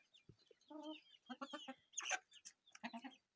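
Chickens cluck close by in short bursts, a few sharper squawks mixed in, with no talking.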